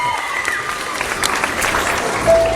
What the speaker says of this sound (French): Applaudissements s'il vous plaît tout le monde